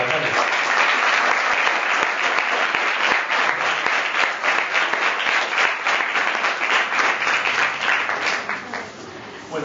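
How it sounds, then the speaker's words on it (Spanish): Audience at a comic book presentation breaks into full, steady applause lasting about nine seconds before it tapers off sharply at the end. "quisiera que todo el mundo diera un aplauso a Francés"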